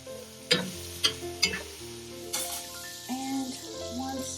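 Three large pieces of celery are stirred as they sauté in a pot for New England clam chowder: a spoon knocks against the pot several times over a soft, close sizzle, with no talking.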